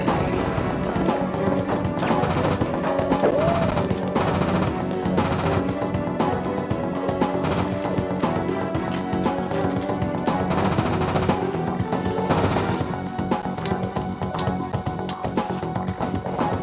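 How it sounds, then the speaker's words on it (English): Rapid bursts of automatic gunfire and repeated shots fill the action in The World Is Not Enough on the Nintendo 64, loud and dense with crashes and impacts layered over a busy game soundtrack. "people are going to be shooting at me now"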